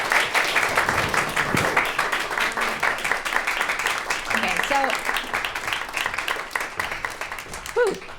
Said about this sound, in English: I just wanted to have another moment of applause for these two, for Alan and Nisera.